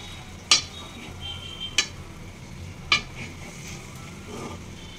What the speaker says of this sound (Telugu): నీట్గా ఇక్కడ అంతా ఆనియన్స్కి వచ్చేటట్టు అంతా ఇలా కలుపుకుందాం.